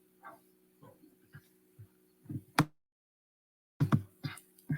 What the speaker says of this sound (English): just heard some noise from the dogs